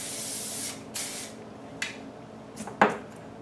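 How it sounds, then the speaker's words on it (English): Short bursts of hair spray hiss onto a short-haired poodle's coat, four or five quick sprays at uneven intervals, close and fairly soft with no talking. "I'm just gonna spray the back and call it awesome."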